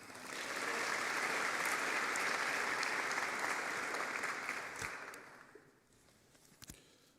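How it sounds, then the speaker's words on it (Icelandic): Sustained applause from a large audience at a technical school graduation ceremony in Harpa, honoring graduating furniture makers; steady clapping for about five seconds that fades out, followed by a few scattered claps. "Og með klappa aftur fyrir húsgagnasmiðum."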